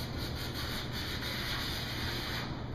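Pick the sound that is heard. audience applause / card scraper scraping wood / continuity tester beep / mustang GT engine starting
card scraper scraping wood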